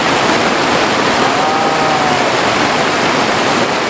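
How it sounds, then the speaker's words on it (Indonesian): Heavy rain pouring down around a hut shelter at night, a loud, steady, dense wash of water noise that holds unchanged throughout, with no voices. "Walaupun hujan kita basah, tetapi ada manfaatnya Bang Logia"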